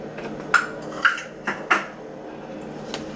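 Toto cake batter, a Jamaican coconut cake, mixed in a bowl: four or five sharp clinks of a utensil against the bowl at uneven intervals over a soft background, with no talking.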